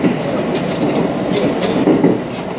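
Rumbling Osaka Loop Line train rolling along rails with a steady low roar and faint rhythmic clatter, heard from inside the car.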